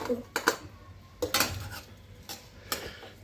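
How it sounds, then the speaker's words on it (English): Capsicum and spice powder stirred into a brinjal curry in a pot, with a spoon knocking against the metal in several sharp scrapes and taps, close and fairly quiet. "Now mix in the capsicum, mix in half this powder."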